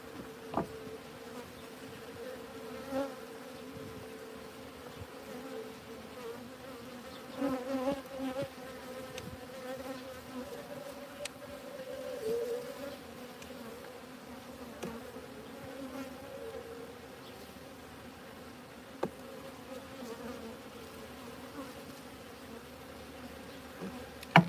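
Honeybees buzzing around an open hive during honey harvesting, a steady droning hum with individual bees passing close, plus occasional clicks and knocks of handling, with no talk.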